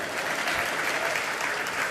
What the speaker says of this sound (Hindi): आप क्यों नहीं बजा रहे हो ताली?